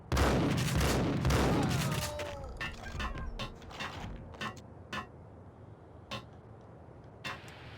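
Sniper rifle fire in Max Payne: a loud burst of heavy shots at first, then a string of sharp, spaced single cracks and mechanical clicks, fainter and intermittent toward the end.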